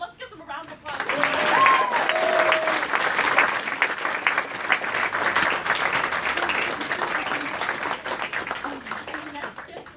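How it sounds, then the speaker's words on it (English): After the music and costume contributors of a show are honored, the audience breaks into sustained applause that swells and holds steady, dense clapping with voices and a few cheers mixed in. "let's give them a round of applause"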